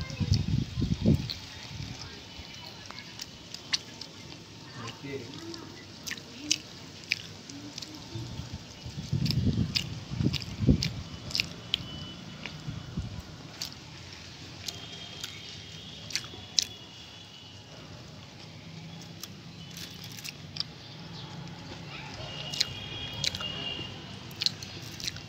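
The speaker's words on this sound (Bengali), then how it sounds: "আমি খাচ্ছি।" Someone chewing pizza outdoors, with wet crunching and squishy bites coming in uneven bursts, faint and close, among soft background noise and scattered clicks.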